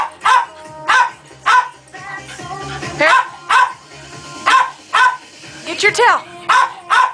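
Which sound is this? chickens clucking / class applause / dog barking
dog barking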